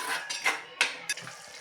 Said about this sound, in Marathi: तर हे बघा आता ह्याला छानपैकी तेल सुटेपर्यंत आपण छानपैकी परतून घेऊया